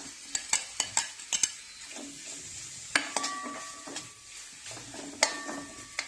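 Potatoes go into garam masala frying in a pan, with a soft sizzle under repeated sharp clinks and scrapes of a spoon stirring against the metal, and no voices.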